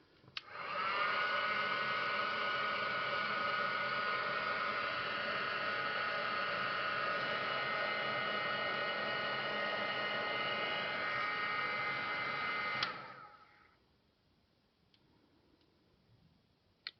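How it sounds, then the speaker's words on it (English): A heat gun blows hard on resin paper poppy petals, a loud steady whooshing whine lasting about twelve seconds before it clicks off and fades, leaving near silence. "and I'm hoping that if I use my heat gun"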